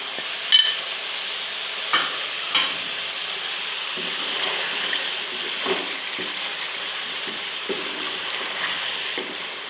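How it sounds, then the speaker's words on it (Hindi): Freshly ground masala is stirred into chicken nihari in a pan, giving a soft, steady sizzle broken by several scraping and tapping stirs close by, with no talking. "अब इसमें मसाला डालूँगी। ये मसाला जो मैंने अभी ग्राइंड किया है, आधा मसाला डालूँगी"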